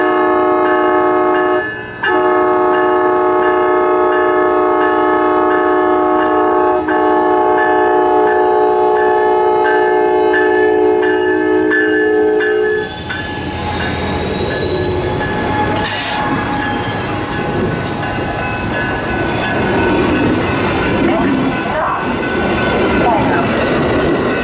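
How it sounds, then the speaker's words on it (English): A loud, sustained Amtrak train horn blares for several seconds as the train departs, then gives way to rumbling wheels and squealing as it pulls away. "I got an awesome horn salute as the train departed"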